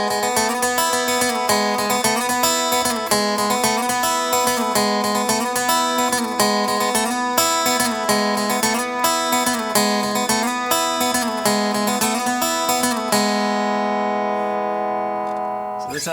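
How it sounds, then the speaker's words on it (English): An electric guitar plays a country-style slide riff, a loud, continuous repeating figure with bending notes that ends on a sustained, ringing chord. "a little like almost like a country slide kind of guitar riff"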